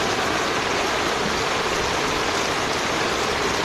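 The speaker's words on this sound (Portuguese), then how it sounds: "Olha como é que a água tá descendo." Floodwater rushes down a street in Maceió after heavy rain, a loud, steady torrent of churning water with no voices over it.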